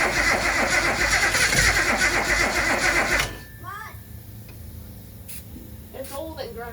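An old car engine cranks loudly for about three seconds without catching, then cuts out, leaving a quieter background with scattered clicks and rattles while someone talks.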